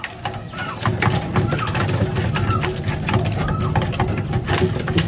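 Pigeons coo repeatedly in a racing pigeon loft, with soft rolling calls close by over a busy background of wing and shuffling noise and a faint mechanical hum.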